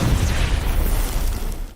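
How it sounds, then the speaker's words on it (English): A phosphorus grenade detonates in a man's hands in a science-fiction film, a heavy booming blast that rumbles steadily before tapering off near the end, with no speech over it. "He then detonates a phosphorus grenade in his hands."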